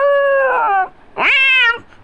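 A person imitates a crying cat with their voice, making two loud, close, drawn-out meow-like wails, the second rising sharply in pitch before falling away.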